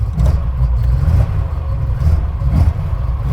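A small car engine fitted with a performance cam idles lumpily and blips its revs, a loud, close, uneven rumble with a few throttle rises.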